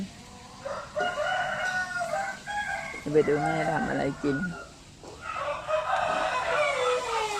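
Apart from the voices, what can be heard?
chickens crowing and clucking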